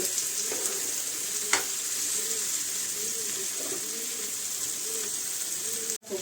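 Onion and tomato frying in a pan for a spiced eggplant dish, a soft steady sizzle with occasional utensil taps and scrapes, fairly quiet.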